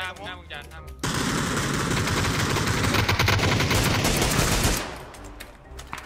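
Sustained rapid automatic gunfire in the PUBG video game, a loud, dense burst lasting several seconds before cutting off, with brief talk before and after.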